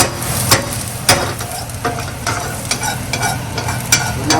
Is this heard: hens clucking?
no